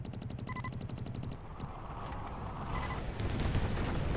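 Video game gunfire in a 4v4 match on the map Haven, heard as a rapid automatic burst up front, then scattered shots and a loud, rumbling barrage toward the end, with electronic beeps mixed in.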